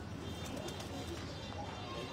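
A pigeon at a Faisalabad breeder's loft coos softly and faintly against low background noise, a quiet, rolling call with no other sounds standing out.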